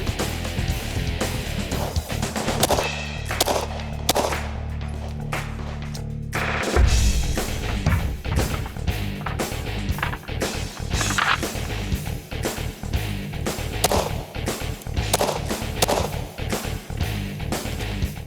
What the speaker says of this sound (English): just pick the gun up, load it, and fire until it's empty